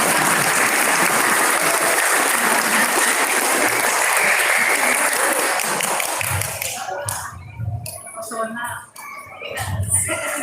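An audience at a religious lecture applauds in a dense, sustained wash of clapping for about six seconds, then it thins to scattered claps and taps as a voice and crowd murmur come through.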